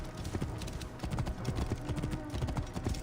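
Horses' hooves from riders on horseback in Assassin's Creed Origins, a dense, continuous clip-clop of several animals passing close by.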